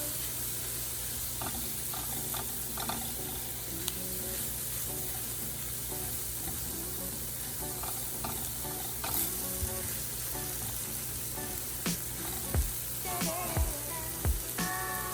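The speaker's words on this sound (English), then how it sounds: "So we're going to stir that up." Chicken sizzles steadily in a hot pan, a dense, continuous frying hiss broken by scraping and clinking as a utensil stirs it, with the clanks getting louder toward the end.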